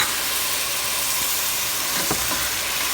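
Soy glaze sauce hitting a hot pan and sizzling loudly and steadily, with a dense hiss and a few faint clinks and scrapes underneath.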